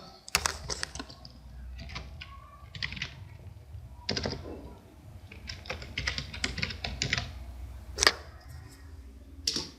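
Bangla text is typed on a computer keyboard in Microsoft Word, producing close, irregular bursts of crisp key clicks with short pauses between them and no speech.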